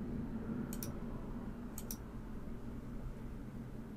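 Two crisp double mouse clicks on a computer installing Windows 11, faint and close, the second pair about a second after the first, over a low steady hum.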